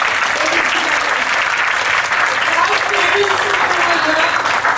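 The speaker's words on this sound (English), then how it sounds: "So a big round of applause once again." Dense, sustained applause fills a school hall at an investiture ceremony, steady and loud from start to end with a faint murmur of the crowd underneath.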